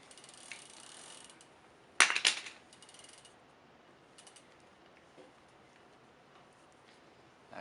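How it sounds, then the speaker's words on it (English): Shimano Dura-Ace Italian-thread bottom bracket being unscrewed from a bicycle frame, a brief burst of close, quiet ratcheting clicks followed by faint scattered ticks and near silence. "once you get it loose, you just sort of spin it and it comes right out."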